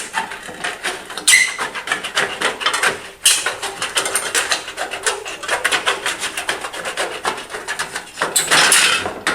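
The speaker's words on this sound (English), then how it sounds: "if you just have some tin snips or aviation snips, you probably can't see the line, but it doesn't really matter" Tin snips cut along a traced line, giving a close series of rapid crunching, rasping metal snips in an uneven rhythm that carry on throughout without pause.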